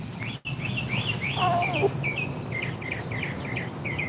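Short repeated clucks and chirpy calls from a chicken nearby, over a low background hum, with a brief dropout near the start.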